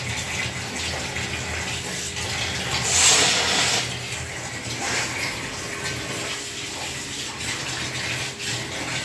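Tap water runs into a bathroom basin while a child washes their face, a loud, steady gush that continues unbroken throughout with no talking.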